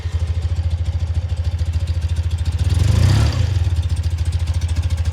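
A BMW R80R motorcycle's boxer twin engine idles with a loud, lumpy pulsing beat, briefly swelling as the throttle is blipped, then settling back to idle.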